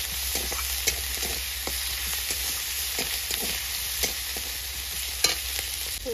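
Garlic and ginger paste sizzles in hot oil in a pan while being stirred for a sour mango and snakehead fish curry, a steady close frying hiss broken by the scrape of the spatula.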